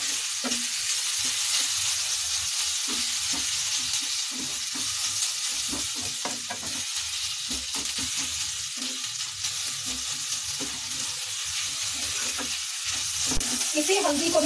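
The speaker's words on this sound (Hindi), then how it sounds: "घी हमारा गर्म हो चुका है, अब मैं इसमें ये हल्दी डाल दूंगी। पूरी भून लूंगी हल्दी को।" Raw turmeric fries in hot ghee for turmeric laddoos, a continuous loud hissing sizzle overlaid with frequent irregular scrapes and taps from a spoon stirring it in the pan.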